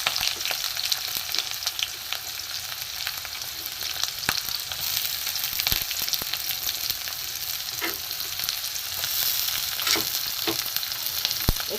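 Chopped onion and green chili frying in a pan for egg patties filling, a dense, close sizzle with scattered sharp crackles and pops throughout, fairly loud and continuous, with no one speaking.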